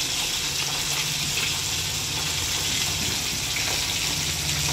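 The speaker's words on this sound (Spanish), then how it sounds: "Este es el secreto para yo freír pescado sin harina." Fish fillets fry in very hot oil with no flour coating, giving a steady, loud, dense crackling hiss that fills the whole stretch without letup and without voices.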